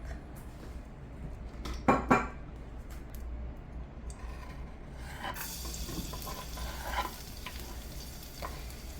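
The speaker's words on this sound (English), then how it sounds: "Now we're sauteing the dried chilies and the garlic." Garlic and dried chilies sauteing in olive oil in a pan, a steady close sizzle with a couple of sharp utensil clinks against the pan early on and light stirring scrapes throughout.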